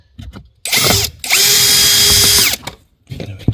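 A power tool whines loudly in two bursts, a short one and then a longer steady run, while backing out a bolt inside a Passat CC's interior, with quiet rattling before and after.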